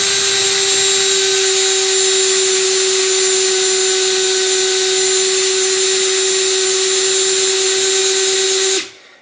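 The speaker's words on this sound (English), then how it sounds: "make sure the drill is going forward" A power drill trimming a rifle brass cartridge case whines steadily at high speed for several seconds, loud and close, then winds down abruptly at the end.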